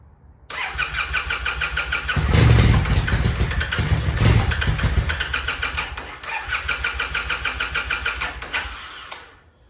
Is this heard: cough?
no